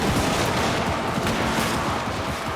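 Thunderer gunfire volleys crackle in a video game battle, a dense, continuous rattle of many overlapping shots. It is loud and close, with no clear gaps between the reports.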